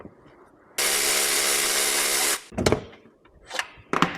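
A power tool runs loud and steady for about a second and a half while removing 12mm nuts and bolts from an Acura MDX engine, followed by a few sharp metallic clanks and rattles of parts being handled.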